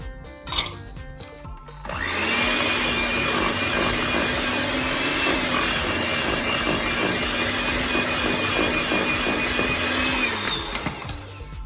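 Electric hand mixer beating eggs into cheesecake batter in a bowl, a steady whirring drone that starts after a brief pause and runs evenly for about nine seconds before slowing off.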